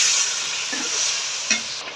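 Chicken frying in a pot with spices and beaten yogurt for a chicken, pumpkin and potato curry, giving a steady loud hiss and sizzle throughout with a couple of brief clinks near the end; no talking.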